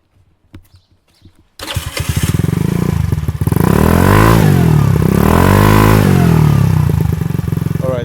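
A Chinese Brak scooter engine starts after a few quiet clicks, then settles into a loud, close, buzzing idle with a couple of rising and falling revs.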